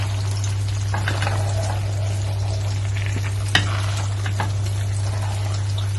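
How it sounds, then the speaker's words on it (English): Egusi spinach stew with fried salmon being gently stirred in a pot, a soft steady sizzle and bubbling with light scraping of the spoon and one sharp clink partway through. "You're going to stir gently"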